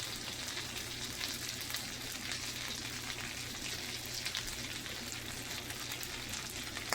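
A lamb steak cooking in a pan gives a soft, continuous sizzle with a faint crackle, steady and even with no voices.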